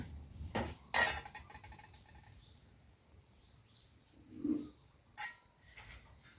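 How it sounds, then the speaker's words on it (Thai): A metal ladle clinks and scrapes against a pot of boiling beef soup a few times while skimming foam, with quiet pauses between the taps. "พอเราต้มน้ำเดือดแบบนี้แล้วนะคะ เราก็มาตักฟองออกนะคะ"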